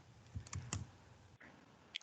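Keystrokes on a computer keyboard while a part number is typed in, a few quiet clicks and taps close by against a low background hum, with no talking.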